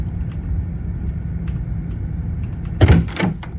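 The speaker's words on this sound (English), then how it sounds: "Doors have sound as well now." A door sound effect from a zombie apocalypse puzzle video game built in Unreal Engine 4: a brief heavy thud and scrape near the end, loud against a steady low background rumble.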